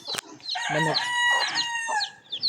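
Chickens cluck while a rooster crows loudly and close by, with more crowing and clucking layered over each other throughout.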